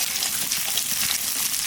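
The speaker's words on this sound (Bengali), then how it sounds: "কাঁচা লঙ্কার সঙ্গে রসুন আদা একসঙ্গে ভাজা হচ্ছে" Green chillies, garlic and ginger fry together in a pan, giving off a steady, bright sizzle that holds even and continuous without any talking.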